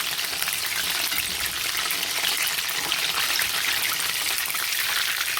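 Chicken pakora frying in hot oil, a steady dense crackling sizzle that fills the whole stretch at close range with no voices over it.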